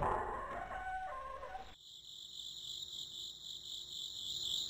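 Loud crickets chirp in the Haunted Cities horror video game, a constant high-pitched insect drone taking over after a brief stretch of other ambient noise, steady and close.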